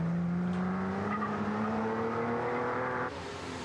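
Peter Newman's Owen Jaguar, a sports racing car over 2,200cc, runs at the Chateau Impney hill climb with a steady engine drone that slowly rises in pitch, heard from a distance and fairly faint before easing off near the end.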